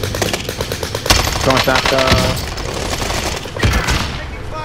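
Rapid bursts of XM4 rifle fire crackle through a video game firefight, shots coming in quick rattling volleys with a heavier burst near the end, while a player talks over the gunfire.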